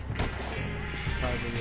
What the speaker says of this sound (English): Carbine rifle.